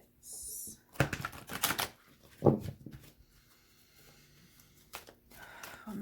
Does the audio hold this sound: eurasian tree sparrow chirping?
no